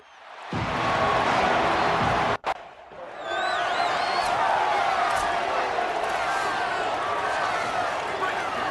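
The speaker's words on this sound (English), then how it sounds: "This crowd bringing an ear-splitting welcome to their visitors." Loud, dense stadium crowd roar greeting the visiting team in a college football video game, a sustained wash of cheering that briefly drops out before swelling back with whistles and yells, continuing steadily under game sounds.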